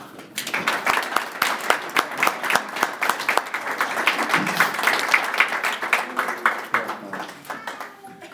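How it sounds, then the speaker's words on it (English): Sustained applause and clapping from an audience at a high school athletic hall of fame ceremony, dense and steady for several seconds before tapering off, with faint voices mixed in. "Guys, one more round of applause."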